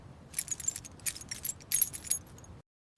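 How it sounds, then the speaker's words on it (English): A bunch of keys jingles and clinks in a rapid, irregular series of bright metallic rattles, fairly close and soft, stopping abruptly into silence near the end. "I find my keys."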